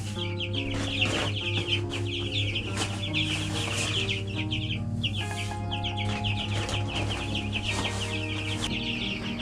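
Chickens and chicks on a farm make a continuous close chorus of clucks and high peeping, with a rooster-like call standing out over steady background hum.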